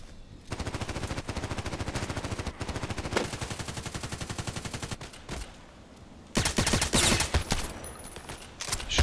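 Gunfire from the video game Contract Wars: rapid automatic bursts rattle continuously for several seconds, pause briefly, then resume in louder, denser volleys.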